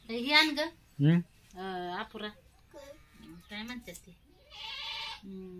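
Goats bleat several times in quick succession, close by and fairly loud, each call a short wavering cry.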